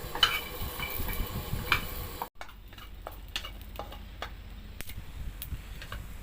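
Chilies and shallots dry-roasting in a hot pot while being stirred, with a soft continuous sizzle and scattered light scraping and ticking of the utensil against the pot, fairly quiet with no talk.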